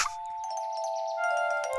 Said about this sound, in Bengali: যদি হাওয়া দেয় তাহলে হাওয়া ঘন্টি বাজবে।